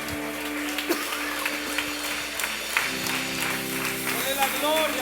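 A church congregation claps hands together in a continuous ragged applause, steady and moderately loud, beneath a preacher's voice and music.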